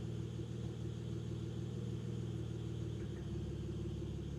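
BMW N54 engine idling with a misfire, a steady low rumbling drone heard close by, with a slight uneven shift in the hum near the end.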